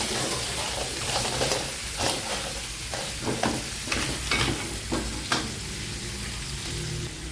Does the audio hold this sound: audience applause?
no